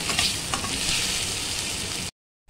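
Cumin, mustard seeds, curry leaves, onions and garlic paste sizzle loudly in hot oil for an ivy gourd fry, a dense crackling hiss that cuts off abruptly after about two seconds.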